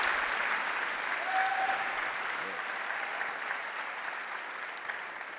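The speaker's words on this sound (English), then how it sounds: "let's give a warm round of applause for Matt, everybody, from Sociability" An audience at a startup conference founder stage applauds a pitch finalist, giving continuous, even clapping from a large crowd that fades slightly toward the end, with no talk over it.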